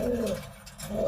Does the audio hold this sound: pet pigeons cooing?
yes